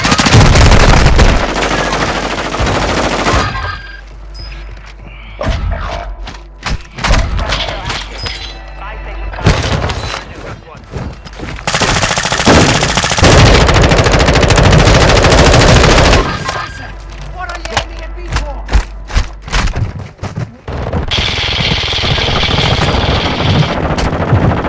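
Rapid automatic gunfire and sharp shots from the video game Call of Duty: Modern Warfare II, Resurgence mode, come in loud repeated bursts with brief pauses, and voices talk over the fighting.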